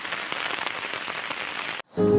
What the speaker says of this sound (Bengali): ঝিরি ঝিরি বৃষ্টি পড়ছে তো খুব ঠান্ডা